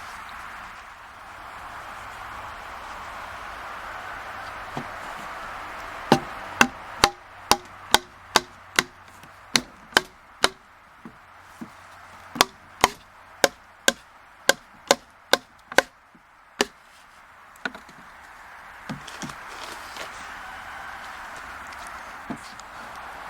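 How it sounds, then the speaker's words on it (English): A leftover broom handle used as a push rod knocks a plug down a bamboo-style pipe for a shishi odoshi deer chaser, giving a run of sharp, evenly spaced wooden taps and thumps, close and alone over quiet room noise. "now I'm going to shove it down the end of the pipe"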